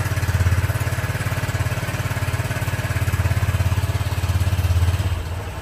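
A Honda Click 125i scooter engine idles steadily after its first oil change, a close, even putter that holds a constant pulse for about five seconds before easing off at the end.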